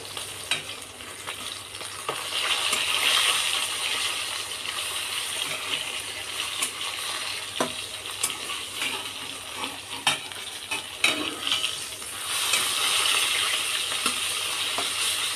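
Fish fries in oil in a pan for a home-cooked morning meal. A steady sizzle continues, with scattered stirring scrapes and small metallic clinks, close up and without talk.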